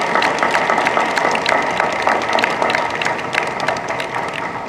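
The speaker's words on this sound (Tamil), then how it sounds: "இந்த கைத்தட்டு பத்தாது" Continuous audience applause at a comedy speech, dense and steady, with many overlapping claps filling the whole stretch without any voices on top.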